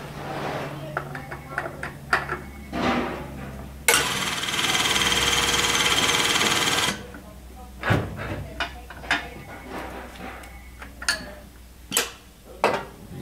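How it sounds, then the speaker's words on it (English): A 5-ton hydraulic cylinder runs for about three seconds in a steady, loud whooshing drone while driving a driveshaft out of a vehicle hub, set among scattered metallic clanks and knocks of workshop tools. "Now he's going to quickly change over the 5-ton to drive that shaft out all the way."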